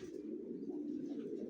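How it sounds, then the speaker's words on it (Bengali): Adult racing pigeons coo softly in a low, throaty murmur, faint and close in a loft, with no talking. "এগুলো দিয়ে কখনো ডিম বাচ্চা করানো হয় নাই, এগুলো রেস্টে রাখা অ্যাডাল কবুতর"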